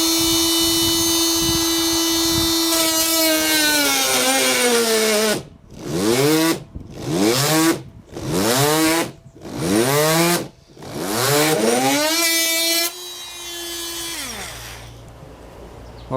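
Fein or Makita oscillating multi-tool pressed hard into wood, a loud close high buzzing whine that bogs down into repeated dips and recoveries as it stalls, then eases to a steadier hum once pressure lifts.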